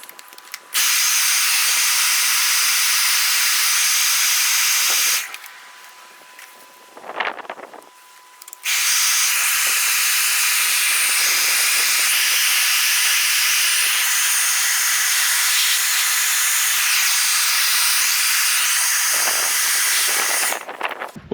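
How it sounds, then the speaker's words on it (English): A household hair dryer blows hot air onto a smoked wrap over a Harley-Davidson Low Rider reflector, a loud, steady hissing rush in long bursts with a short break partway through and a brief pause near the end. "I don't have a heat gun, so I'm just going to use my hair blower."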